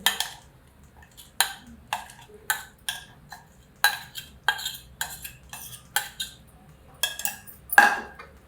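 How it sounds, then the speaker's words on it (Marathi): A utensil scrapes and taps against a bowl in irregular strokes as grated coconut is stirred and beaten into cooled, thickened milk for coconut ice cream; the sounds are close, with quiet gaps between them. "तर हे नारळ त्याच्यामध्ये मिक्स करते, चांगलं फेटून घ्यायचं"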